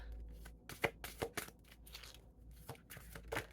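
Large oracle cards being shuffled by hand, giving a quiet run of dry riffling and flicking bursts with a few sharper snaps spread through the stretch.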